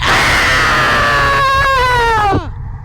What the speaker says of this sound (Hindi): चुड़ैल आग में झुलसती हुई चीख रही थी